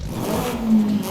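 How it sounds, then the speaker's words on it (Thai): A stock SR20 turbo engine in a Nissan S13 revs briefly with a rising mechanical drone, close and steady, in Forza Horizon 5. "อันนี้คือเสียงเครื่อง SR 20เดิมๆครับ"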